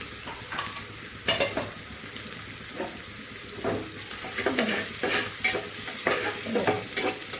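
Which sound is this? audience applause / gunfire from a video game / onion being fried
onion being fried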